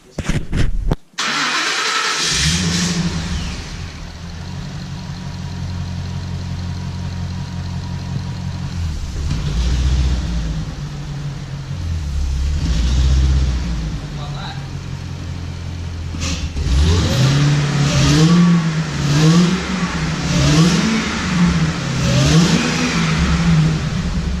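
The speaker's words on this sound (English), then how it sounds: "So, shall we bring the car down and start it up?" A car engine cranks and starts, then idles with a steady rumble before being revved repeatedly in rising and falling bursts, loud and close.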